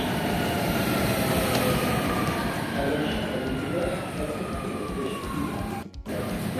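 An empty metro train rolls along in Dubai, a steady rumble and hiss of wheels on track with a faint whine, then a brief clunk near the end.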